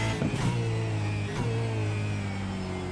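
A Gen 3 Supercar's Coyote V8 idling and blipping in the iRacing simulator, a steady low engine drone with a few quick rev bursts near the start, on its own without voices.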